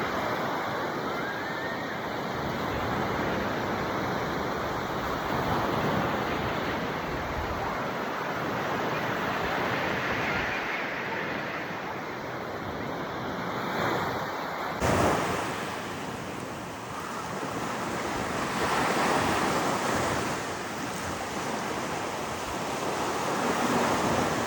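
Ocean waves roll in at high tide on Cabourg beach in Normandy, a continuous wash of surf mixed with wind noise on the microphone, steady and fairly loud with gentle swells in level.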